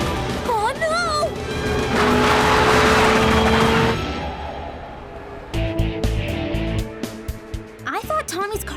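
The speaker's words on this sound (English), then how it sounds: "Why is it fishtailing all over the place?" A race car fishtails with a sustained, rising tire screech and rushing engine noise in the middle, then rattling bursts, while voices talk over it.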